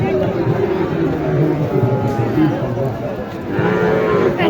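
Cattle moo at a busy Bangladeshi livestock market, a Sahiwal and Nepali-type bull hat in Naogaon, with low drawn-out calls rising over constant crowd chatter and nearby talk throughout.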